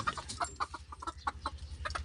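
A frightened pet chicken clucks in quick, repeated bursts up close, with a low steady background hum underneath.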